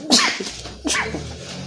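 Two sneezes from a man with the flu, a sharp burst near the start and a second one just under a second later, each breaking out loud and close in an otherwise quiet room.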